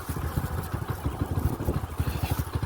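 A motorbike rolls slowly along a rough, rutted farm track used by bullock carts and tractors, its engine giving a steady, close low putter with uneven bumps throughout.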